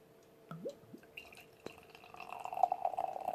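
Boulevard Funky Pumpkin spiced sour ale is poured into a glass, starting with a few drips and glugs and then swelling into a steady, bubbling pour that rises in pitch as the glass fills, quiet and close.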